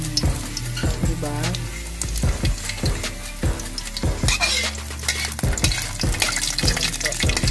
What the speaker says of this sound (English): Then lalagyan na natin yung garlic.